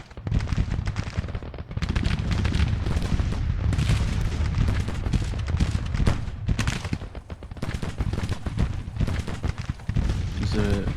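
Civil War cannons and rifle fire rumble in the strategy video game Grand Tactician, a dense, continuous barrage of booms and crackling shots, loud and layered throughout.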